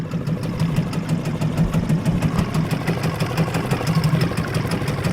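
A small outboard boat engine runs close by with a fast, pulsing throb after the choke is pushed in, revving steadily and fairly loud, with no talking.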